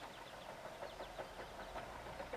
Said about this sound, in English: This engine's probably so weak now